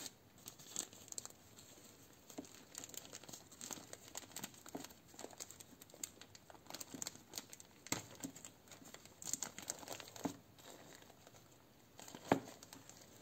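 Small plastic bag holding grape cuttings being handled and crinkled, a quiet, continuous papery rustle with scattered sharper crackles close by.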